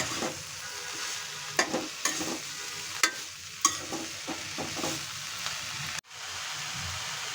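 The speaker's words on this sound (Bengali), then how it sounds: "এখন আবারও নাড়াচাড়া করব শাকটাকে।" Pumpkin greens from a rooftop garden, dusted with a little turmeric, are stirred as they fry in a pan: a steady sizzle runs throughout, broken by several sharp scrapes and clacks of the spatula, then briefly cut off before resuming.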